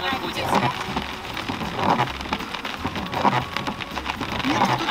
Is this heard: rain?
yes